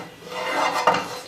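A spatula spreading a teaspoon of olive oil around a pot, a short close scraping rasp that builds and then catches once near the end.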